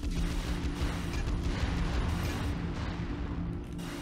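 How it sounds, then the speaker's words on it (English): Enemy guns firing in the PS2 mech game Armored Core 3, a dense loud barrage of booming, rumbling shots mixed with mechanical game noise, continuous and close. "those fucking guns keep shooting me from behind"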